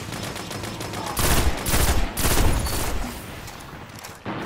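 Rapid gunfire in a multiplayer shooter video game, with dense bursts of loud, sustained shots that swell and fade in waves, close and continuous, with no talk.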